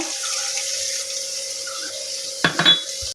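Water from rinsing a spice bowl is poured into a coconut-milk egg gravy, making a steady close stream that ends with a couple of splashy clinks of the bowl.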